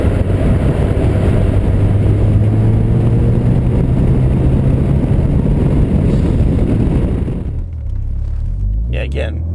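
A Ford Focus RS cruises in fifth gear at 2,000 RPM, its low engine drone and road rumble steady inside the cabin and dropping away near the end, with a voice talking over it.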